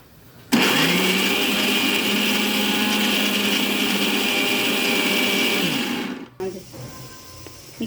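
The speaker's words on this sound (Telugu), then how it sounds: "ఒకసారి ఇది మళ్ళీ మిక్సీ పట్టుకోవాలి." A mixer grinder blending cooked onion and tomato whirs loudly and steadily for several seconds, then cuts off, followed by a few faint clunks.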